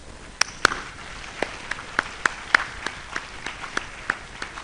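Sparse, scattered handclaps from a ceremony audience applauding newly inducted physician fellows at the Ghana College of Physicians and Surgeons, individual claps standing apart in an uneven rhythm rather than a full roar.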